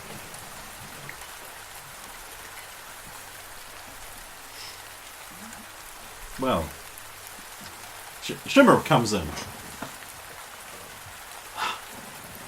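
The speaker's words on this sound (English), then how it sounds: "I swear that rain just keeps getting heavier" Heavy rain pours down as a steady background hiss, while people talk over it and a few louder bursts stand out.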